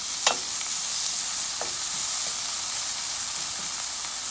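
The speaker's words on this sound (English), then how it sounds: "And I'm gonna add half of the green onion now. Just have a little bit of oil in the pan." Green onion sizzling in a little oil in a pan for a Guyanese bangamary stew, a close, steady bright hiss with a couple of faint clicks near the start.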